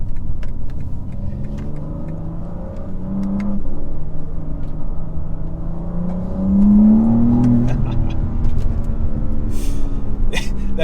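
A BMW M4 CS engine drones steadily close by as the car accelerates, its low note climbing in pitch partway through with no talking over it.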